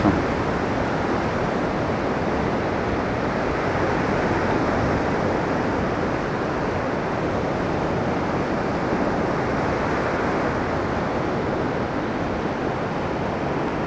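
Sea waves at Anapa on a December day roll in as a steady, loud wash of surf with no break or pause, a broad continuous roar filling the whole stretch, with no voices present.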